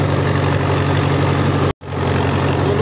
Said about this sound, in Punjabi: ਦੂਜੇ ਵਧੀਆ ਟਰੈਕਟਰ ਚੱਲੀ ਜਾਂਦਾ ਗਾ ਜਿਹੜਾ ਸਾਡਾ ਬਾਣ ਆ